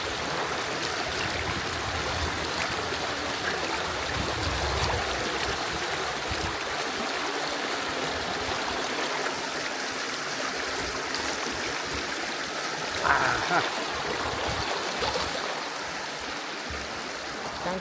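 Ice-cold mountain stream water rushing steadily over rocks among hills, a dense, continuous close wash of flowing water with no speech.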